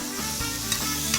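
Tofu searing in a dry pan with no oil while preparing beef sukiyaki, a steady close crackling sizzle with faint stirring scrapes.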